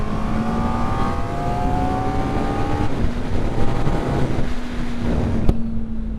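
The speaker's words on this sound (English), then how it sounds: "Just the motor alone sounds really good." The engine of a 2024 Kawasaki Ninja ZX-4RR motorcycle runs with a steady, loud, tonal drone, heavily buffeted by wind noise. Its pitch shifts slightly partway through.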